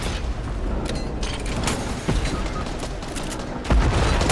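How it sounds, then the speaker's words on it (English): Rocket launcher and gunfire in the Fortnite battle royale video game, a dense barrage of sharp shots and booms, with louder explosive hits near the middle and end over constant game noise. "I'm shooting my rocket."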